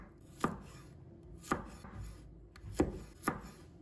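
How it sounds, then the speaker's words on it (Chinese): A knife chops garlic on a cutting board in four sharp, separate strikes, close but fairly quiet, with short pauses between them. "把它切成小块"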